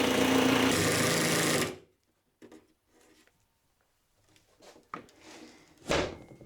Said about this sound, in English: this is just a block of softwood that I'm going to fasten with 2-inch screws